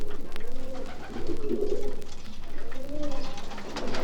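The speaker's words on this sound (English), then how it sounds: "The pigeons are as much a part of the old market square as the delightful Baroque buildings." Pigeons coo steadily in Warsaw's old market square, a group of nearby birds giving repeated rolling, throaty calls in overlapping waves with faint open-air city ambience behind.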